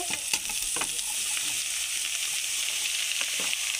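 Bottle gourd and chili fry with onions in a pan, giving a loud, continuous sizzle with a few scraping stirs near and alone.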